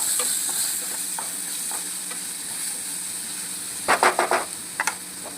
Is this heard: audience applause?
no